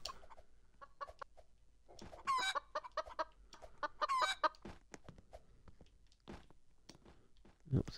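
A video-game chicken clucks in short bursts through a quiet background, with a player talking and reacting over it.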